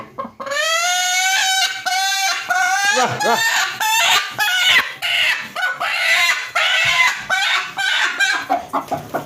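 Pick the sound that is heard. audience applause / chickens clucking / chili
chickens clucking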